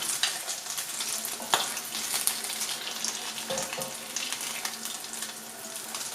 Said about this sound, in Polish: I ja będę smażyć następne, jak usmażę wszystkie, do was wrócę.